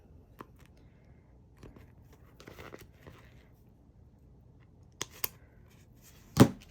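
Scissors snip through paper pages for a Happy Planner: a few faint, scattered cuts, then one louder, sharper snip near the end, with no one talking.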